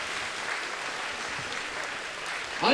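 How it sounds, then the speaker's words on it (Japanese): Applause from the crowd at a Shooto mixed martial arts event in Okinawa after a fight, a steady dense wash of clapping that carries through the whole moment and swells slightly louder at the end. "復活のザ・タイガー石井選手、どうぞ大きな拍手をお願いいたします"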